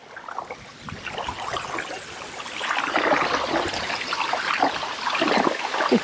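Floodwater from a river that has burst its banks flows steadily over a sunny countryside road, a continuous broadband rush and trickle that swells gradually louder, with no talk.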